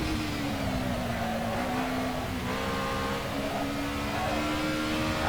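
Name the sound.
Alfa Romeo 155 Ti V6 engine in video game Assetto Corsa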